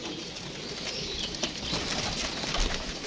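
Flock of pigeons moving about nearby, soft cooing and occasional wing flaps over a steady rustling background, no voices.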